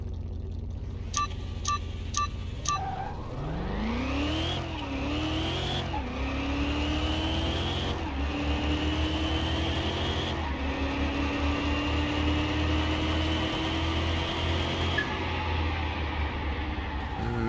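A V10 Viper-powered Camaro races in Car Mechanic Simulator 2021, its engine climbing through repeated gear shifts with steady high-pitched revving that runs on continuously, with a few brief beeps at the start.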